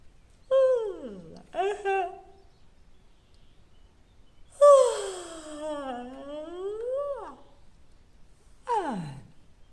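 Drawn-out, groaning vocal yawns with sliding pitch, several in a row separated by quiet gaps, close and fairly loud.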